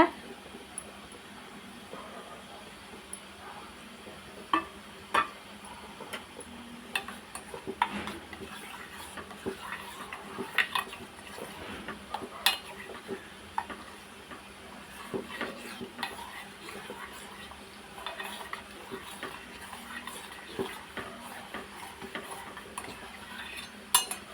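Ground, strained aloe vera being stirred into a homemade soap mixture, a long stretch of irregular clinks and taps of a utensil against a container with soft swishing in between, close and moderately quiet.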